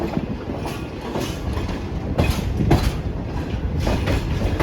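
Train on the rails at a railway station in Pakistan, a loud, steady rumble with clattering wheel impacts and occasional brief metallic squeals.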